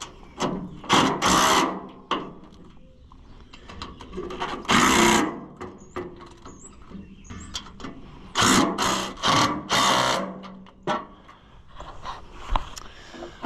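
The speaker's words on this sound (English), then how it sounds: "let's hammer it home" Metal hammer blows seat an Oliver 77 tractor radiator, sharp strikes in irregular bursts with quieter mechanical rattles and pauses in between.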